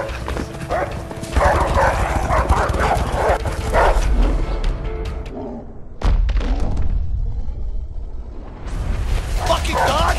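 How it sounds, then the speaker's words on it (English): Dogs bark while chasing someone in a game, loud thumps and heavy running footfalls dominating, with barking mixed into the commotion and people shouting over it. "Fucking dogs! Are you serious?"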